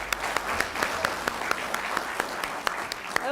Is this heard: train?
no